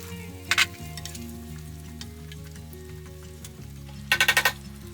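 Potatoes frying in a pan with pork, a steady close sizzle throughout, with short bursts of clattering utensil scrapes near the start and end.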